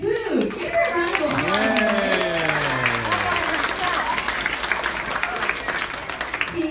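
A small audience at a kids' team event claps for Team Unicorn. The applause is moderate and steady, and a voice glides and exclaims over it at the start before the clapping carries on alone.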